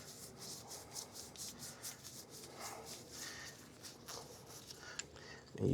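Grease is rubbed onto the threads of a puller, giving a faint, soft, repeated swishing rub, close and quiet, with a brief louder bump at the end.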